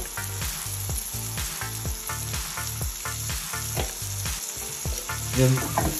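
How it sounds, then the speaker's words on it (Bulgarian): Shrimp sizzle loudly in a pan with garlic and cream, a steady close frying hiss broken by regular scraping strokes of stirring, with no talking. "Малко да се запържи с чесъна. След това добавяме сметана."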